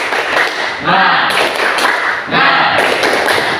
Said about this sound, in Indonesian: Sekali lagi biar semangat, tepuk semangat.